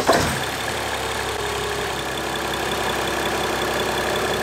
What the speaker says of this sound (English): Now let's go fire up my diesel and see if it blows off any of these vinyl tubes.